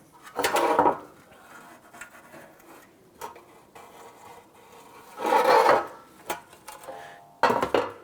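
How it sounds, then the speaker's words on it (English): A razor blade scrapes old material off around a transmission speed sensor on a 2005-2007 Ford Five Hundred, in several short, rough, close bursts of scraping separated by quiet pauses and small clicks. "You're going to scrape off this material here"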